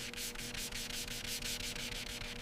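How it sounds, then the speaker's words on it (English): Medium grit sandpaper, 120 to 180, scrubs a corroded 1927 TT pistol slide in quick, regular back-and-forth strokes, close and continuous with no voices. "The progression to medium grit begins. 120 to 180 grit sandpaper starts."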